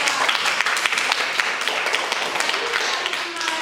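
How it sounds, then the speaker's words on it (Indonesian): Audience applause after an answer during a university teaching session, dense clapping from a group, fairly close and loud, with chatter mixed into the crowd noise. "Dapat tepuk tangan yang baik."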